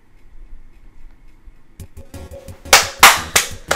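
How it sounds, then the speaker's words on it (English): A few sharp, close claps from the ending of Undertale, four quick percussive hits after a quiet stretch of soft game music. "Just a good clap."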